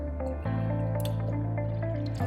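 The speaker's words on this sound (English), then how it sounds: "You need to use water that's not hard, so I'm using just some spring water. You want to fill it to the fill line." Spring water runs steadily into a cleaner bottle being filled toward its fill line, a close, continuous liquid stream with a brief change near the start and end.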